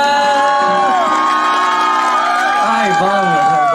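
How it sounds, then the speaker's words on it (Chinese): A crowd at an outdoor lantern festival concert cheers and applauds loudly and continuously, with an amplified voice and music ringing over the noise. "也给自己一个掌声！"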